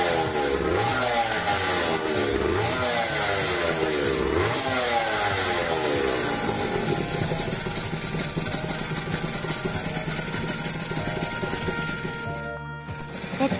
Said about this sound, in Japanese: 排気音はこんな感じで、